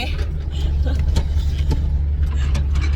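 A car is driven at low speed, its engine droning steadily throughout with a few faint clicks and rattles on top, and no clear speech.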